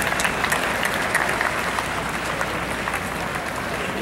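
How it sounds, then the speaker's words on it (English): Crowd applause at an outdoor Bethlehem tree lighting ceremony, a continuous broad clatter of many clapping hands holding steady throughout, with no voices rising above it. "Let's give them all a round of applause"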